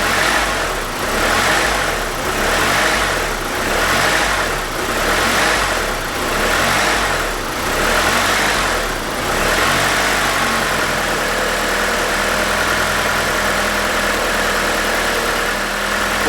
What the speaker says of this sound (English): adjust the BIS screw in until we get the idle to kind of mellow out